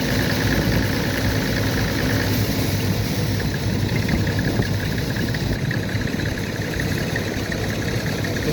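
An Armstrong Siddeley engine mounted on the back of a Massey Harris 701 baler runs steadily. The rumble is loud, close and even throughout, and no one speaks over it.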